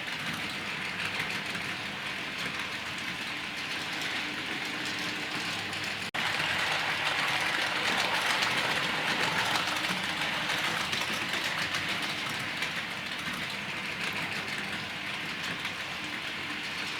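A Hornby GWR Class 800 Hitachi IEP bi-mode model train, its driving car pushing, runs along the track with a steady close whirring rumble that jumps a little louder partway through and then continues evenly.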